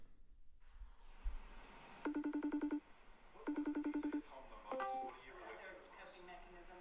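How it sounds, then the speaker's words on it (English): Video call ringtone sounding in two short bursts of rapid repeated electronic tones, followed by a brief connecting chime, moderately loud over faint room noise. "So it starts off with the sound of a video call."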